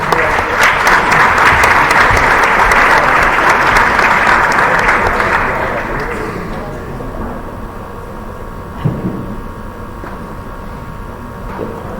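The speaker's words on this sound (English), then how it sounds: "welcome them with a warm applause" A conference audience at a symposium gives warm applause to welcome speakers onto a panel. Loud, close clapping from many hands runs for about six seconds, then thins and fades into a quieter room.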